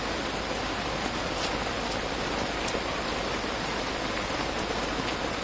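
Steady rain falls during a carp fishing session at a lakeside, a dense, continuous hiss of drops on surfaces, close and even throughout with no talking.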